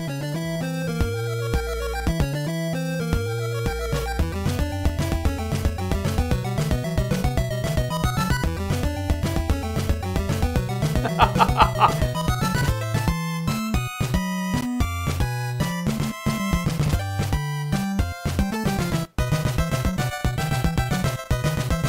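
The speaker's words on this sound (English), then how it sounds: "a 1988 video game soundtrack for the NES that sounds" Chiptune music from the 1988 NES game Castlevania plays throughout, bright synthesized square-wave melodies over a driving bass line, loud and continuous with no voices.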